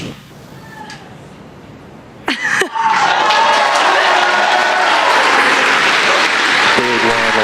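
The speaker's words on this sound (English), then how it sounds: "You can hear the cheering in the background." Crowd cheering and applause erupt at a SpaceX Falcon 9 first-stage booster landing on the GPS III Space Vehicle 05 mission, starting abruptly after quiet and holding loud and steady, mixed with a voice in the background.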